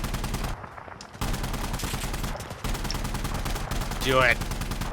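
Insurgency Sandstorm firefight, rapid bursts of automatic gunfire rattling over a steady background rumble, with a voice speaking briefly in between.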